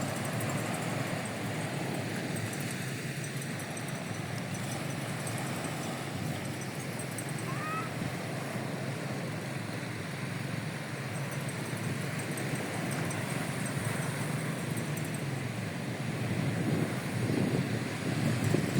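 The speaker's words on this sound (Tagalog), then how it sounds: "Ito na po yung dagat ng Sipalay City, Negros Occidental." Sea at Sipalay City, Negros Occidental, heard as a continuous broad wash of surf mixed with wind rushing across the microphone, steady and unbroken throughout with no voices.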